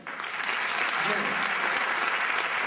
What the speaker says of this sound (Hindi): एक बार जोर से तालियां बजाइए।